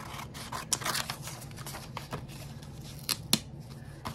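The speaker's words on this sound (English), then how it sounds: "So I'm gonna carefully try and trim it out here." Scissors carefully trimming a small image out of paper for a collage, a steady run of close, crisp snips and soft paper rustle, with a few sharper cuts standing out, no talking.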